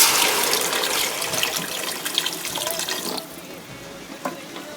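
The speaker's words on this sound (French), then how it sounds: "Vous couvrez d'eau." Water poured over stuffed cabbage rolls in a pot with saffron-colored sauce, a steady broadband splashing rush that thins out after about three seconds into lighter trickles and drips, close and alone without talk.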